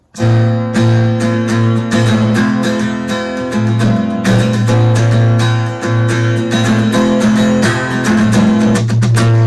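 Loud, strummed guitar chords ring out in a driving rhythm, with muted string scratches between them, as a part from a song is played alone, with no talking.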